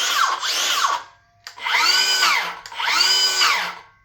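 A Milwaukee cordless circular saw spins up three times in close succession, each loud whining run rising and falling in pitch with short pauses between, no talking.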